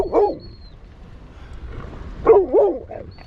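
Several dogs, including one named Roscoe, yelp and bark in short excited bursts at a seaside fishing spot, one cluster at the start and another near the end with a quieter gap between.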